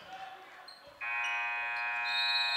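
A basketball end-of-quarter buzzer blares at a high school boys game, a loud steady electronic tone cutting in after a moment of crowd noise and holding to the end, with an announcer's voice before it.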